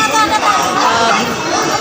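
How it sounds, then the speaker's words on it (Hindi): Dense crowd of devotees at the Sheetal Mata temple during Navratri, a loud continuous babble of many overlapping voices close by. "इधर तो बहुत ज़्यादा भीड़ है"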